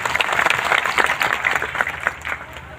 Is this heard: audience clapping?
yes